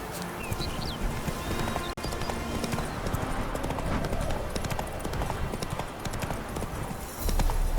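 Roach the horse from The Witcher 3 video game, rapid rhythmic galloping hoofbeats that continue steadily and loudly, with faint ambient game sound and a brief neigh-like cry.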